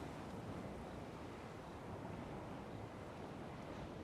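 Ocean surf washes onto a beach at low tide around sunset, a constant soft roar of waves with breezy wind noise, even and unbroken throughout.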